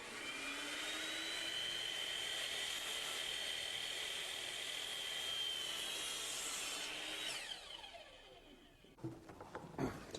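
Wooden stair railing being sawn by hand, a steady continuous rasping stroke lasting about seven seconds, close and fairly loud, then breaking off into scattered knocks and handling sounds.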